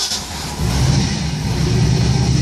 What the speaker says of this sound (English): Now you see the engine started up